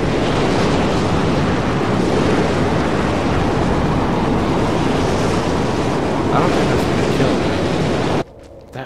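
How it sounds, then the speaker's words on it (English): Strong wind gusting across the desert in the video game Mad Max, a loud, continuous roaring rush that fills the scene for about eight seconds before cutting off abruptly. "wind just picked up out of nowhere, and I don't know why"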